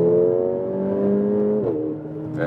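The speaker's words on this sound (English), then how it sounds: "do you hear this sound from the exhaust? This is really a very nice racing sound." A Mercedes-AMG A45 exhaust drones while accelerating, a steady, close, rising engine tone that dips briefly near the end as if shifting gear.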